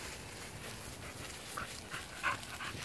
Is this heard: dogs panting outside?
yes